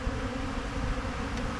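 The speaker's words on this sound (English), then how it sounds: "These bees are taking it up, and they've gotten so sticky they need to clean up a little bit before they can fly back to their base camp" Honey bees crowding a feeder of diluted sugar syrup give off a steady, close insect hum that holds evenly throughout, with no voices over it.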